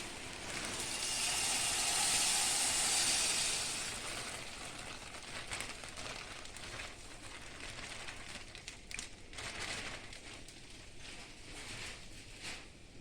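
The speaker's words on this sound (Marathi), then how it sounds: "चिरमुरे घातले की आता हे हलवून घ्यायचे" Puffed rice stirred and tossed in a hot pan with tempering for Kolhapuri bhadang, a loud broadband sizzling hiss at first, easing into steady crackle with repeated scraping and rustling strokes close by, no talk.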